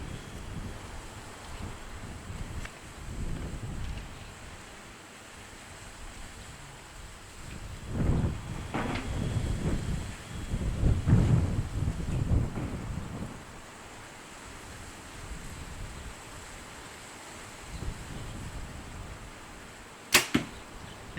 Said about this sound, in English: Now there's a fair bit of wind,